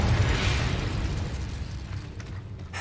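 The Incendio fire spell is cast in Hogwarts Legacy, giving a deep, rumbling burst of flame up front that rolls off into a fading, crackling roar.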